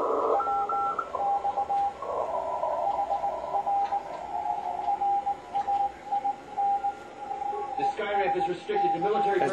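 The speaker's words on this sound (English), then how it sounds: "Notice the higher pitch tone doesn't change when we switch back and forth." A steady transceiver audio tone plays through a narrow filter on a modern amateur radio, a continuous beep pulsing on and off with hiss behind it and someone talking over it.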